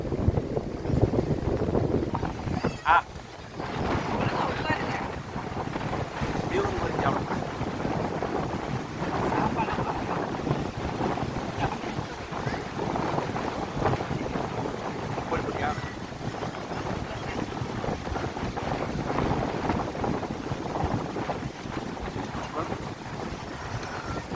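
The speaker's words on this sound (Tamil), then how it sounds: "இந்த போர்டிக்ஸன் பீச்சு ரொம்ப அமைதியாக காற்று வந்து ரொம்ப பலமாக இருக்குது" Strong wind gusts buffet the microphone at Port Dickson beach in Malaysia, a steady loud roar throughout with waves and sea noise beneath and occasional voices.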